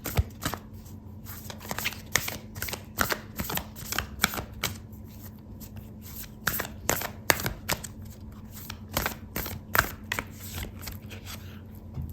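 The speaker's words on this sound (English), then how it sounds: "I'm going to pull out an oracle card for you" Oracle cards being shuffled close by, a long run of rhythmic riffling and snapping bursts with short pauses, and no voices.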